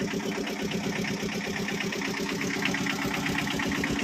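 A Tata Ace HT mini truck's engine runs steadily at idle close by, with an even, continuous mechanical rumble and a rapid throbbing pulse and no speech.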